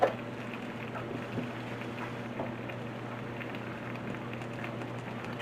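Ground hamburger meat fries in a dry pan with no water, a steady dense crackling sizzle that holds evenly and fairly close throughout.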